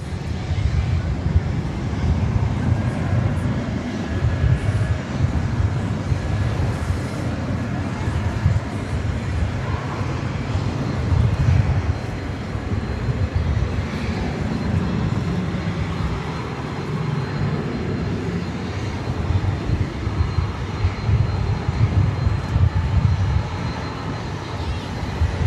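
A Qantas jet airliner at DFW Airport makes a steady, broad engine roar that holds loud throughout, mixed with outdoor wind rumble, with no talking.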